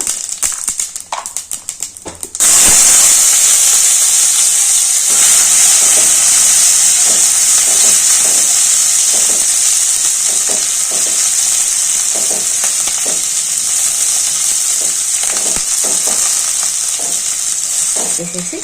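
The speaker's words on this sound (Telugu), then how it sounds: "పోపు కొంచెం ఆయిల్ ఎక్కువనే వేస్తాను" Tempering spices hit hot oil in a pan for an aloo curry, bursting into a loud steady sizzle and hiss that runs on unbroken, with faint clinks and stirring rattles underneath.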